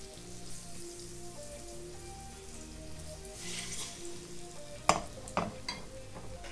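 Egg-dipped bread for sweet fried toast fries in a pan, a soft steady sizzle under faint background music, with a few sharp clatters and scrapes near the end.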